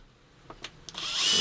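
A power drill with a bit bores straight through its workpiece, starting with a few short scraping contacts before the motor's whine swells into a loud, steady grind, close by with no talking.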